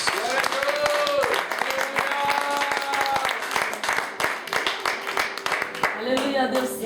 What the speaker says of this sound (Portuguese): Uma salva de palmas, um aplauso a Jesus.